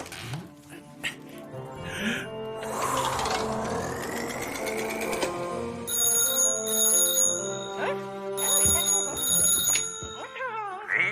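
An outgoing phone call rings out in repeated bursts of bright, high-pitched ringing tones, loud and close, over a busy tonal, music-like background.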